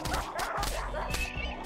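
Dogs bark in quick overlapping yelps and woofs while fighting robots in the video game Rimworld, several sharp, loud barks packed into a short, busy burst.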